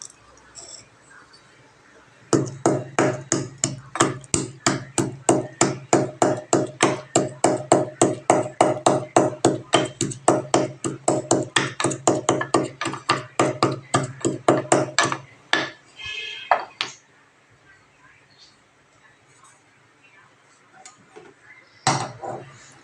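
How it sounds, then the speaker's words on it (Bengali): Cardamom is pounded into powder in a home kitchen with rapid, evenly spaced knocks, loud and close for about thirteen seconds, then a few scattered taps and a short scrape after a pause. "আর আমি এই যে নিয়ে নিয়েছি এলাচ, এটাকে আমি গুঁড়ো করে নেব এখন।"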